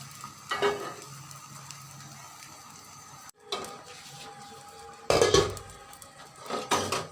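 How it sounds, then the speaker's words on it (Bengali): Beaten eggs hit hot oil in a frying pan, giving a few loud sizzling bursts with short quieter gaps and some clinks of a utensil against the pan, no talking. "ফ্রাই প্যানে তেল দিয়েছি, এখন ডিম দুইটাকে আমি ভেজে নেব।"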